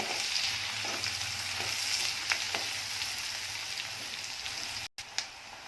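Chopped onion frying in a pan over a low flame, a steady bright sizzle running throughout with occasional soft stirring clicks, close and continuous, with a brief dropout near the end.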